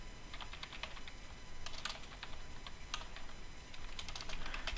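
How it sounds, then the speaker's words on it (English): Someone types on a computer keyboard in quick, uneven bursts of soft key clicks, faint and close, with short pauses between runs. "You can actually just type it in here as a title for the document."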